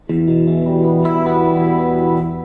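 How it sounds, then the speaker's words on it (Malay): An electric guitar chord through a compressor pedal rings out evenly, its sustain held level, with a second strum partway through; close, no talking. "Kompresor on, bunyi slow pun tetap kuat."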